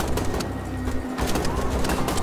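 Pigeons coo in the Wolfenstein: The Old Blood video game, a soft, steady murmur of calls that runs through the whole short stretch at moderate loudness.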